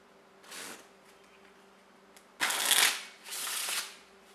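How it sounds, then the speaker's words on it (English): A titanium deck of playing cards is fanned three times, each a quick close ruffling whir, the last two longer and louder, with no voice present. "Real easy to fan these cards."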